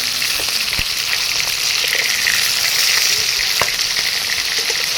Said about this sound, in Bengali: মাছের একদিক ভাজা হয়ে গেছে এখন আমি মাছগুলো উল্টে দেবো অপর দিকটা ভাজার জন্যে